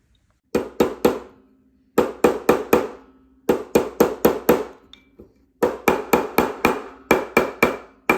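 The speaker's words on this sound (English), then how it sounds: "we're going to start hammering it on a mandrel to make it into the ring shape." A platinum wedding band hammered on a metal mandrel: crisp, ringing metallic blows struck close by in quick clusters of three to five, separated by short pauses, with no talking.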